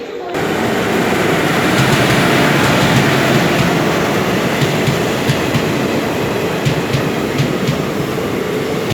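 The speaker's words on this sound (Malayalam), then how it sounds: "അങ്ങനെ ഞങ്ങൾക്ക് പോകാനുള്ള ട്രെയിനെത്തി" A train pulling into Kasaragod railway station, a loud continuous rumble of wheels and carriages close by, steady throughout with faint rhythmic clacks.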